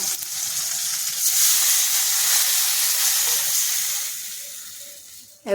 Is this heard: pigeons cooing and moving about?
no